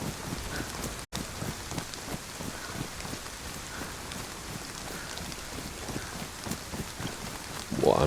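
Steady rain falls in the survival video game DayZ on the Livonia map, a soft continuous patter of drops with faint irregular ticks and no clear voices.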